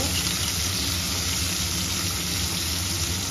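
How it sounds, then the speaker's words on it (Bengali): Small chopped capsicum pieces fry lightly in oil in a wok, giving a dense, continuous sizzling hiss that stays even and close throughout. "এখানে একটা ক্যাপসিকাম কেটে নিয়েছি ছোট ছোট করে, ভেজে নেব। হালকা ভাজবো"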